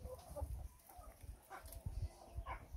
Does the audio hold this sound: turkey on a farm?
yes